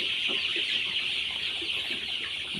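A flock of Sonali chickens clucks and chatters steadily under a constant high-pitched background din.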